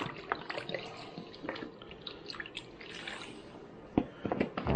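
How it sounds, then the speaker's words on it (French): Water is poured into a pot of pork shank stew, producing quiet trickling and dripping with scattered small splashes. Faint and fairly close, it ends in a brief louder splash near the end, with no talking. "Je vais même rajouter un peu d'eau."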